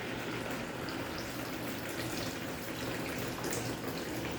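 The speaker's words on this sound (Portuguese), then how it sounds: "E eu vou colocar água quente aqui, já deixei uma chaleira aqui, ó, fervendo" Hot water from a kettle that was just boiling is poured into a container while baking requeijão bread. The splash and gush runs steadily for the whole stretch at a moderate level, with no talk.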